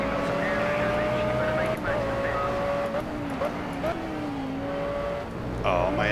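Audi R8 GT3 race cars in the Project CARS racing game roar together toward the first corner, with engine notes climbing and dropping as they shift and brake, a steady pack drone sitting under a voice.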